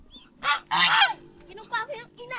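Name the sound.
goose honking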